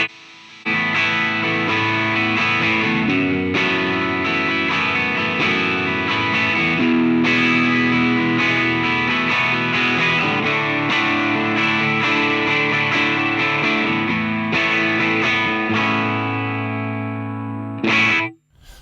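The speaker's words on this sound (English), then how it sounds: "I'm going to add a distortion pedal" An electric guitar played through a software distortion pedal effect on a Fender studio setup, sustained gritty overdriven chords and notes ringing continuously for about seventeen seconds, then cutting off with a final strum.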